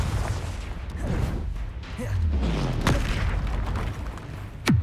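In the Hogwarts Legacy video game, the Confringo fire spell goes off, giving a deep booming blast with crackling bursts amid ongoing combat noise and a sharp impact at the end.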